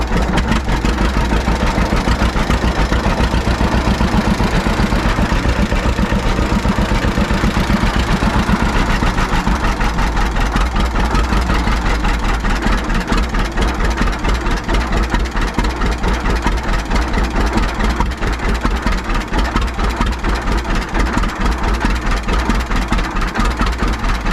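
A 1935 John Deere A tractor engine running after 37 years idle, its two-cylinder popping turned up to higher RPM, a loud, close, steady rapid thumping that holds for the whole stretch with no talk.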